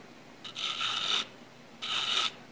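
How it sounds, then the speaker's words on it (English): A file wrapped in sandpaper rubbing lightly along the edge of a 1911 pistol grip safety, two close rasping strokes of under a second each separated by a short pause, quiet background otherwise. "I'm actually going to be using the surface of the file, covered with sandpaper obviously"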